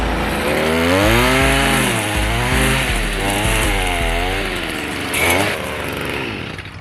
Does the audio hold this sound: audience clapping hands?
no